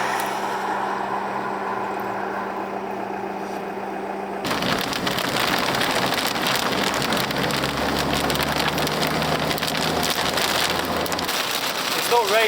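Heavy rain in Finland pours onto a surface nearby, a steady loud hiss that starts abruptly partway through after quieter ambient sound, with a low rumble underneath.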